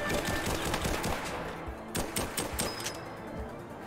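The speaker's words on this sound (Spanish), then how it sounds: "Y le disparo a este" Rapid bursts of gunfire in the Rollerdrome video game, with dense crackling shots repeating in quick clusters over a busy game soundscape, loud and close, no talk.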